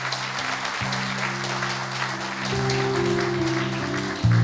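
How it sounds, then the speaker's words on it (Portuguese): A church congregation applauding during a sermon, a broad sustained clatter of many hands under steady organ or keyboard chords, building slightly louder toward the end. "Aplauda o nome do Senhor."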